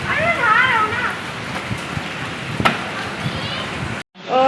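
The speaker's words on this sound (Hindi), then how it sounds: "कैसा तेज़ आंधी तूफान आ रहा है और कितनी तेज़ बारिश हो रही है" Heavy rain lashes down during a strong windy storm, a dense roaring wash with a few sharper splashes, while voices are heard briefly at the start before the sound cuts off abruptly near the end.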